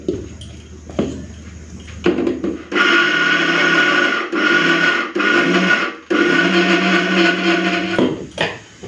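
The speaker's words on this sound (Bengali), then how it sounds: "চলুন সবগুলো দিয়ে দিলাম, একসাথে বেটে নেব। বাটার সময় অল্প একটুখানি জল দিয়ে দিচ্ছি।" An electric blender grinds soaked chana dal with a little water in loud whirring bursts, stopping and restarting several times. Brief knocks and handling sounds come before the motor starts, with no talk.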